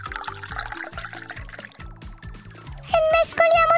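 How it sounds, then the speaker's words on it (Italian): Water is poured into a cooking pot holding a few spoonfuls of buckwheat porridge in a children's play-kitchen setting, a short close splashing pour that swells louder toward the end over a backdrop of music. "Aggiungiamo l'acqua."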